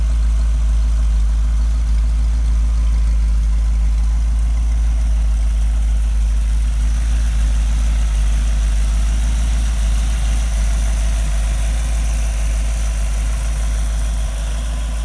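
A Model A Ford hot rod chassis from 1928-1931 idles steadily, a loud, close, continuous low engine rumble with vibration and no voices.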